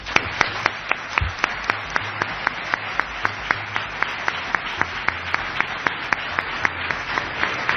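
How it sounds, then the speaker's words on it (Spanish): An audience claps for Salvador Ortega Mayén at a live overnight radio broadcast in Bélmez, with a sustained round of applause and clear, regular claps standing out near the microphone. "para el que de verdad pido un aplauso"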